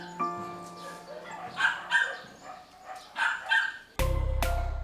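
Rescued dogs bark repeatedly at a shelter in Capas, Tarlac, several close yips and barks in quick bursts, ending in a harsh loud noise.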